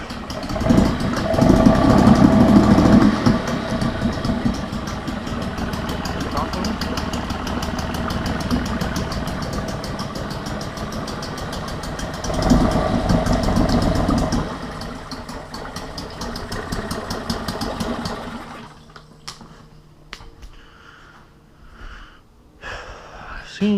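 A small outboard motor runs in a trash can of water, with a steady rough idle that surges and churns, heavier bursts near the start and middle, then sputters down to quieter intermittent knocks; someone talks over it at times.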